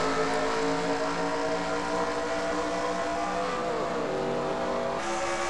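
Several race cars in a NASCAR stock car video game restart at the Hollywood Casino 400, a dense, steady engine roar with overlapping droning tones that rise and shift as the pack moves, loud and continuous throughout with no talk.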